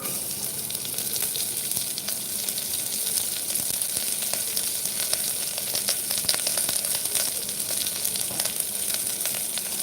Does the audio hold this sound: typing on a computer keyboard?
no